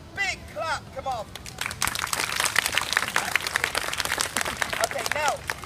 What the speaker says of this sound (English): please give this beautiful man, give him a big clap